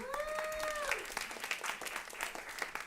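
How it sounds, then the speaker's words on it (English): Scattered clapping from an audience, fairly brisk and moderately loud, beginning under a brief sustained tone that fades out. "So give yourselves a round of applause for coming."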